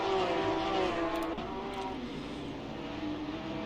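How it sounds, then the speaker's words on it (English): A race car spins off at Degner 2 during an online Suzuka race in a racing video game, its engine droning steadily as the tires give a brief squealing skid before the engine note fades somewhat. "Ben Hayes has spun off at Degner 2"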